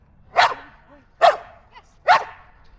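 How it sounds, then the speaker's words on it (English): A dog barks three times at an even pace, sharp and fairly close, with quiet gaps between each bark. "a lot of barking, a lot of noise, a lot of chaos"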